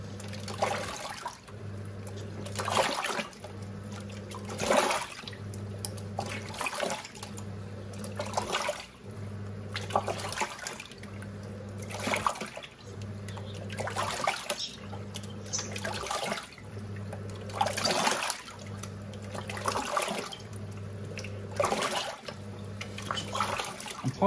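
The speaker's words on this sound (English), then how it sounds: "So it must push water through that." A Giantex EP23113GB washing machine pushes water through its fluff filter in regular surging pulses about every two seconds, with sloshing water over a steady low motor hum.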